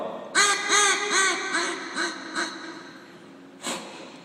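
A hand-blown duck call imitating a mallard hen's greeting or hail call gives a descending run of about six close, loud quacks, tapering and quickening, then a single quack after a short pause, with no talking.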